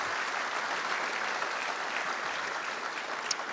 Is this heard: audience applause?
yes